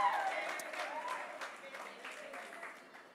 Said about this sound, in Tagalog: So palakpakan po natin yung mga kabataan